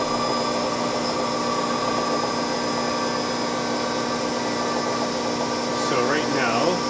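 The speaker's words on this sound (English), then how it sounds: "This is that same drilling operation." A CNC machine spindle runs a drilling operation while machining a camera case front, giving a constant loud mechanical whine with steady tonal hum and a brief rise in noise near the end.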